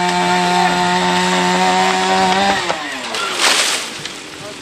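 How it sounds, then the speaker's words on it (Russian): A chainsaw cuts old trees in a residential courtyard. A loud, steady engine whine holds for a few seconds, then drops into rougher, scraping cutting noise as the blade bites into the wood. "Добровольцы пилят старые деревья."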